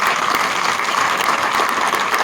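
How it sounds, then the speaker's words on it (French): An audience applauds steadily and close up throughout, a dense continuous clapping with no pauses or talk, cheering on a salesman who has just been promoted to director at a NeoLife meeting in Cameroon. "Acclame pour moi."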